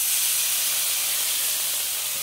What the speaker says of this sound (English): Now we're going to add our hash browns in there.